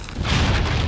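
A massive blast from a nuclear explosion sound effect, a loud, dense roaring boom that swells and holds at full strength for about a second without any voices.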